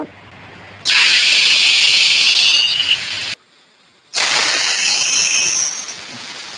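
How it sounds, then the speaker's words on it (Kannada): Pressure cooker whistling on a stove while masala rice (kushka) cooks: two long, loud, steady hissing whistle blasts, each lasting a few seconds, separated by a brief quiet gap. "ಎರಡು ವಿಸಿಲ್ ಕೂಗಿದಾಯ್ತು, ಏಳಟ್ಟು ಕೂಡ ಆಗಿದೆ ನೋಡಿ"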